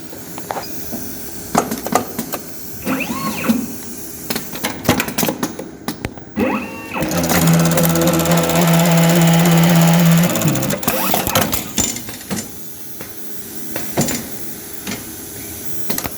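A JUKI APW 896N automatic welting machine set to speed 2500 runs through a pocket welting cycle: clicks and mechanical knocks, then a steady loud sewing whir for a few seconds that stops, followed by more clattering, close up without speech.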